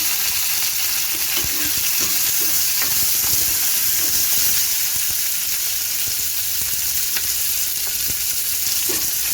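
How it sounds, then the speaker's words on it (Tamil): Green chillies sautéing in a pan for coconut chutney, a steady close sizzle and fry hiss running throughout with occasional light stirring clicks. "சேர்த்து நல்லா வதக்கி விட்டுக்கலாம்."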